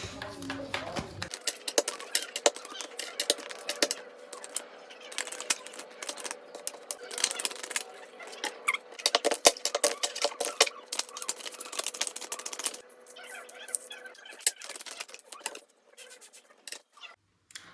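Continuous crisp riffling and slapping of tarot cards being shuffled up close, repeated in quick bursts with brief pauses, no talking.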